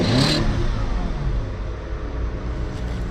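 A Volkswagen Passat's 4-liter W8 engine, in a junkyard car long left sitting, revs loudly up close with a dense low rumble that eases back to a steady idle.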